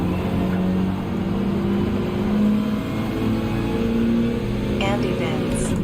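A race car engine in Gran Turismo 7 during an online manufacturers cup round revs and climbs through upshifts, a steady mid-level engine tone with rising pitch sweeps under ongoing commentary.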